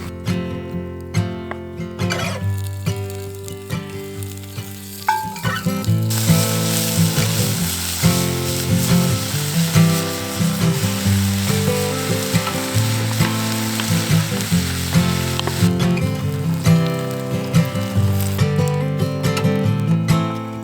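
Sausages fry in a pan at a van-life campsite, producing a loud, continuous crackling sizzle that swells after the first few seconds, over steady background music.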